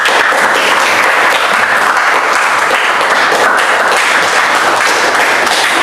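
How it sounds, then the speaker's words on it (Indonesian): A classroom of students claps for a presentation, dense sustained applause throughout, near and loud with no talking over it. "Kita beri aplaus dulu semua."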